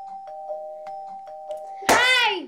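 A doorbell chimes in the Minecraft video game: a sustained two-tone ring with light taps underneath, followed by a loud, bright burst of chime overtones near the end.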